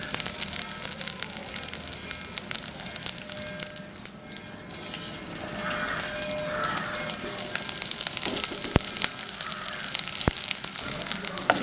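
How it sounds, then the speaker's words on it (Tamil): Onions frying in sesame oil in a pan for chicken curry, a dense, continuous crackling sizzle heard up close, with a few sharper pops and light clicks of the pan. "கொஞ்சம் வெங்காயத்தை பொரிச்சு எடுக்க போகிறோம்."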